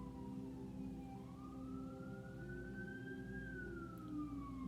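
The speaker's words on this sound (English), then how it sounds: "and I also hear the siren." An emergency siren wails faintly in the distance, its pitch gliding slowly up and then down over a low constant rumble of background noise.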